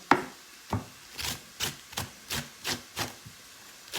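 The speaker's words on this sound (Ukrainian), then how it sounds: "І так ми всю капусту мусимо насікти. Отак дрібненько." A knife finely chopping cabbage on a wooden board, about eight steady, evenly spaced cuts close up, with no talking.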